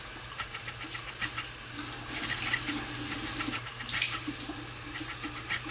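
Water runs steadily from a tap while a makeup brush is rinsed under the stream, giving a low, continuous splashing and trickle at close range. No voices are heard.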